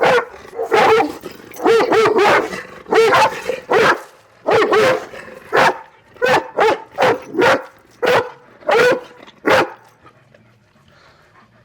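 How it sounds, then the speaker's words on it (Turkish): A Presa Canario and an Akbaş bark loudly nearby in repeated bursts of deep barks and yips, with short pauses between volleys that taper off toward the end. "Süper köpekler."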